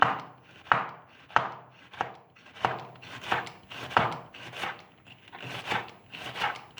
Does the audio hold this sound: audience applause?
no